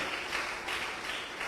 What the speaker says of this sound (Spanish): del aplauso fuerte al Rey bendito, por favor